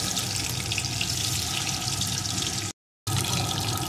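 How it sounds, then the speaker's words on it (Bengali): Eggs fry in hot oil in a pan, a steady close-up sizzle and bubbling hiss that cuts out for a split second and then carries on. "एखन डिमगुलोके आमी एपिठ ओपिठ एकटु भेजे नेब"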